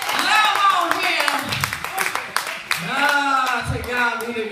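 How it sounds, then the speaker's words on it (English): A church congregation claps hands in praise at an Easter service, a scattered run of claps mixed with loud, excited voices and shouting that carries through the whole stretch. "Y'all give God a hand clap of praise."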